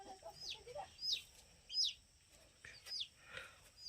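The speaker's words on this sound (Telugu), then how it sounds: "ఇది కోడి ఉందా?" A chicken clucks at a forest family home, with several short, close clucks and squawks in an irregular rhythm, fairly quiet, with no talk.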